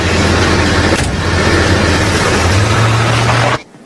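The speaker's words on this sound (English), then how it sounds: "I'm gonna put the car in the garage." A car's engine rumbles steadily at close range, a low continuous drone for several seconds as it is driven into a garage, then cuts off abruptly into near silence.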